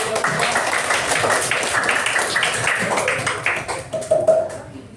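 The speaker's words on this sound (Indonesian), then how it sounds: "semuanya tepuk tangan dulu" A group of students claps hands together in a classroom, a dense patter of taps that thins toward the end.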